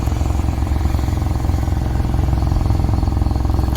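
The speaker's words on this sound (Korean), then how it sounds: "배기구 소리를 한번 들어보겠습니다" A car with a faulty engine and a stuck spark plug, heard at its exhaust pipe as a loud, steady idling rumble. The irregular low pulsing has a slight clattering edge and there is no speech.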